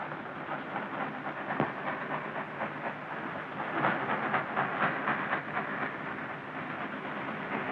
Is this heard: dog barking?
no